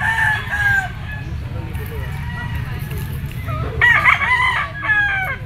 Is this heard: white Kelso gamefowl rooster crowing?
yes